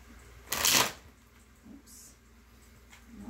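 A deck of tarot cards is shuffled once in a quick riffling burst up close, followed by quiet handling noises.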